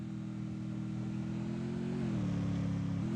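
Steady mid-pitched vehicle engine drone in the Free Fire battle royale game, holding a constant tone that shifts pitch slightly and rises in loudness toward the end, with no voices over it.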